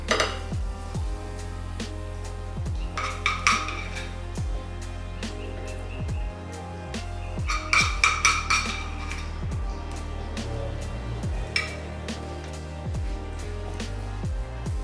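Beans are spooned onto a plate of chilaquiles: repeated clinks and scrapes of a spoon against dishware, with two busier clusters of clattering over a steady low hum.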